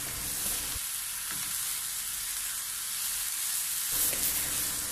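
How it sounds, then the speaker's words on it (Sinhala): Ash plantain pieces fry in oil in a pan for a Sinhala mallum, giving a steady, close sizzle and hiss that holds for the whole stretch, dipping slightly in the middle before returning brighter. "දැන් මේ ටික කලවම් කරලා තෙල් වලින් අලු කෙසෙල් කෑලි ටික තැම්බෙනකල්"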